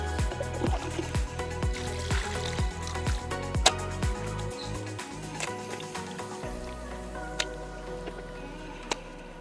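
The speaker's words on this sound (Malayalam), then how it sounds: "ഇനി വെള്ളം ഒഴിച്ച് നന്നായിട്ട് കഴുകിയെടുക്കാം." Water is poured over black chicken pieces as they are washed, giving a run of rhythmic wet squelches and splashes that settle into a softer steady trickle with a few faint ticks.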